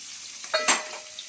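Fish frying in a pan, a short burst of sizzling and spattering oil with a brief clink of a utensil, close and alone.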